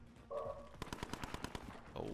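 Call of Duty Cold War Zone gunfire: a quick, rhythmic automatic burst of about ten evenly spaced shots, fairly faint and set against a low game background.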